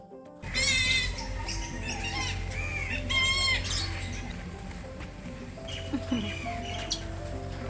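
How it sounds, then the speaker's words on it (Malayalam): An African parrot at a heritage resort gives loud, harsh squawking calls in short bursts, close by, followed by quieter chirps over a background of outdoor noise. "ആഫ്രിക്കൻ തത്തയാണ് കേട്ടത്"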